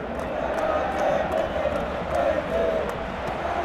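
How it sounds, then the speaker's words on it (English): Stadium crowd in the football video game PES 2018 during Argentina vs Croatia, a broad, steady roar of cheering that swells slightly in waves under commentary. "you can hear how the crowd are reacting to this too"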